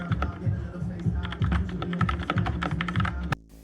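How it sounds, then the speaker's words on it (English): Close, quick typing on a Redragon Ratri mechanical keyboard fitted with silent switches, a dense run of soft, muted keystrokes in an uneven rhythm that stops abruptly near the end. "the sound you hear while typing and gaming is a day and night difference compared to other keyboards"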